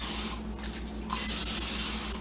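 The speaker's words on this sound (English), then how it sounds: "you spray it with any type of cooking spray that you would like" Cooking spray hisses onto a pan over medium-low heat in two short bursts, close and fairly loud.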